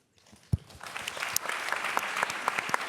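Indoor audience applause at a panel celebrating an organization's 25th anniversary: a sharp clap onset, then steady, dense clapping that builds and holds at a moderate level throughout.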